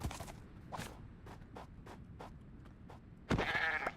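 Goats bleat in a hardcore survival video game, several short cries spaced across the moment at moderate distance, with soft scuffing footsteps and a louder scrape near the end.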